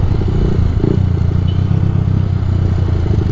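Kawasaki Rouser 180 motorcycle in third gear at high speed, its engine a loud, steady droning roar held close throughout with no talk.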